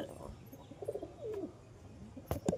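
A pair of red homer pigeons gives soft, throaty coos in a short sequence of warbling calls, near and fairly quiet, ending with a couple of sharp knocks.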